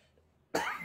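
One sudden, loud, close cough bursts out after a near-silent stretch and rings on briefly to the end.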